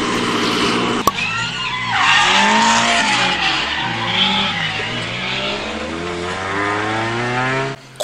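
Toyota AE86 drifting on a rebuilt differential, with loud, sustained tire squeal over a rising and falling engine note for the whole stretch, apart from a sharp click near the start.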